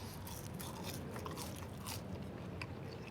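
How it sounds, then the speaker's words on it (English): Thick fried chips (French fries) from a fish and chips shop being bitten and chewed close up, a soft continuous crunching and munching with no talking. "Let me try some of the chips,"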